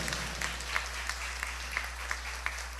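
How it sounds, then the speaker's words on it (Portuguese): A church congregation in Sento Sé claps in rhythmic, evenly spaced beats through a whole-room burst of applause at a 75th anniversary service, with no speech over it. "eu queria que você aplaudisse ao Senhor pela existência da nossa congregação"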